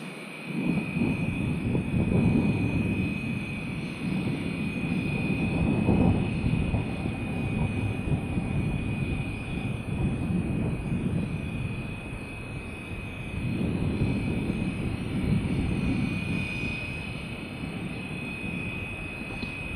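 A Flywing Bell 206 RC model helicopter flies in the wind, giving a steady continuous whine and rotor drone that swells and fades slightly as it moves at a moderate distance, with no talking.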